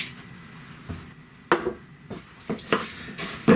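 Muesli being mixed into bread dough in a bowl, a series of irregular knocks and scrapes of utensil against the bowl, close and fairly quiet, with louder clatters toward the end.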